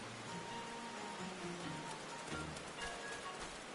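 Rain falls steadily in the town of New Gridania in Final Fantasy XIV, a soft hiss of droplets that runs throughout with faint game music tones layered underneath.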